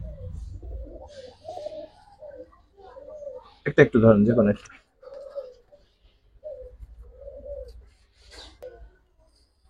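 Giribaz pigeons, a light female and a dark male pair, coo in soft repeated low phrases close by while someone talks over them.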